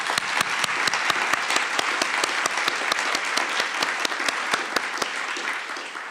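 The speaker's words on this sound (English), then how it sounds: "I just wanted to make a great big round of applause for our sponsors." A round of applause for sponsors fills a conference hall: sustained crowd clapping, even and continuous, with one nearby clapper's sharp, regular claps standing out and stopping near the end.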